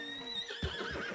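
A horse neighs in the video game Red Dead Redemption 2: a short, close whinny with faint hoof clip-clops underneath.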